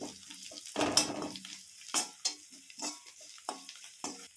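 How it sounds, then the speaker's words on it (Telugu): A spoon stirs turmeric and coriander powder into fried onions in a pan, giving irregular scraping strokes and soft taps over a faint sizzle, each stir a short separate burst. "కొంచెం పసుపు, కొంచెం ధనియాల పౌడర్ వేసుకొని కలుపుకుంటున్నాను"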